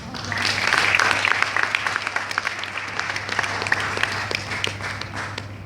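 An audience at a Hindi department college event applauds a recited poem, a full, sustained round of many people clapping without a break.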